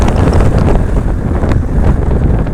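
Loud, constant wind buffeting the microphone, a heavy low rumble with rushing noise that never lets up.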